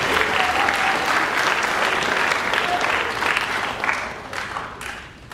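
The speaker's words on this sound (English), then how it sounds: "You can clap for him." Audience applauding at a school orientation event, steady dense clapping from a crowd that holds for several seconds and then gradually thins out toward the end.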